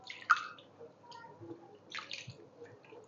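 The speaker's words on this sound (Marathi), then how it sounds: "लगेचच आपण याच्यावरती थंड पाणी घालायचं आहे" Cold water poured over freshly made paneer gives a few soft, scattered splashes and drips, quiet and close, with gaps of near silence between them.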